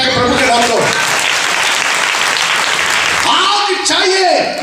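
A church congregation applauds loudly and steadily for the Lord during a Hindi Christian sermon, a dense wash of many hands clapping at once with the preacher's voice breaking through near the end.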